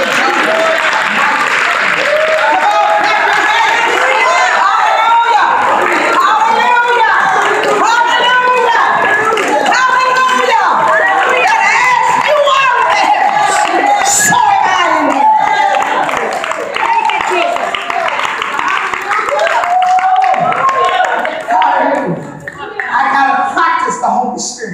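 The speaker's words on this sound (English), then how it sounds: "Come on, clap your hands" A church congregation claps hands during worship, loud sustained applause with voices talking and calling out over it for the whole stretch.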